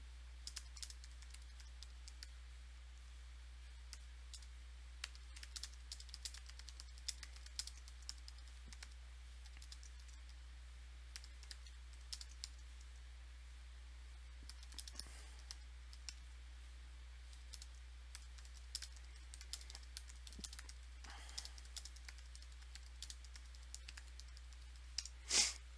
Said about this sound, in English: I'm typing it out to make it easier.